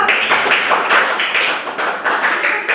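Schoolchildren in a village classroom in Balasore district, Odisha, clap together: a dense, steady patter of many small hands, close and fairly loud, with no talking over it.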